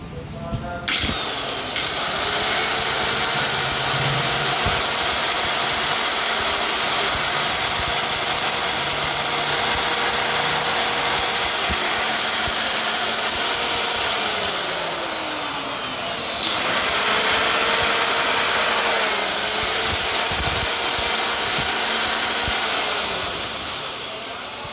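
A CM5 wood cutter machine runs loudly and steadily with a high whine, spinning down and then starting up again partway through, with faint vibration from play in the spindle gear fitting.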